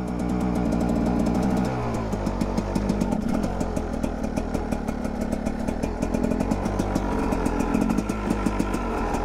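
A 2022 Rieju MR 300 Pro motorcycle pulls away in first gear with a cold engine, its rapid mid-pitched putter steady and close, rising slightly as the rider accelerates.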